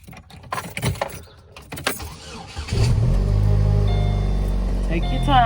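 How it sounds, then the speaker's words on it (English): A car engine starts and then idles steadily outside a garage during a snowstorm, a low continuous rumble that takes over after a few seconds of clattering and handling noises at the start. "I'm gonna let my car run for a minute"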